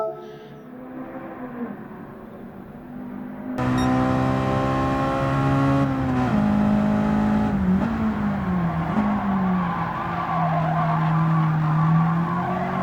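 A white Honda Civic SiR laps Tsukuba Circuit in Gran Turismo 7, its engine holding a loud sustained whine that climbs and dips through shifts, with tire squeal woven in and no talk.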